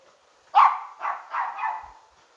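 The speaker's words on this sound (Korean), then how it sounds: "어째 동네 개, 개 짖는 소리가 안 나나 했네" A neighbourhood dog in an old residential alley of Sincheon-dong, Daegu barks once sharply, then gives two or three softer, drawn-out barks, heard at moderate distance with no talking.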